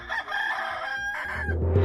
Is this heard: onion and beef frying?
no